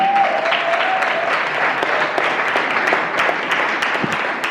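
An audience at a young professionals forum chapter launch welcomes Dr. Donald Peterson with sustained, dense clapping that fills the room evenly for several seconds.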